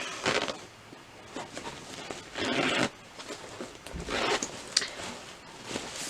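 A zipper on a bag's front pocket is pulled open and closed several times in short rasping strokes, close by and quiet, with brief pauses between.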